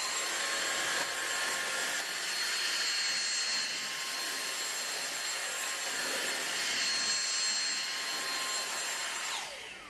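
A Dyson DC59 Animal cordless vacuum running with its mini motorized tool, a steady, loud high-pitched whine with a brush hum that holds continuously and tapers off at the very end; no talking.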